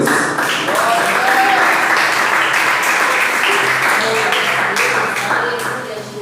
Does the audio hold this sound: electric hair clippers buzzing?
no